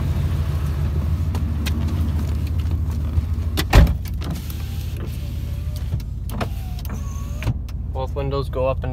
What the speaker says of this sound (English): Windows go up and down.